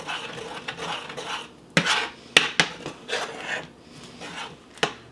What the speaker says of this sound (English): I'm going to add the onion and the broccoli.